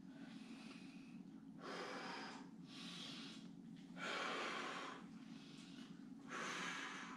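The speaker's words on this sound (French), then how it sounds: "Inspirez par le nez." Slow rhythmic breathing during a Pilates-style concentration exercise: three broad, hissy breaths, drawn in through the nose and blown out through the mouth. Each lasts about a second, close and fairly loud over a low steady hum, with no talking.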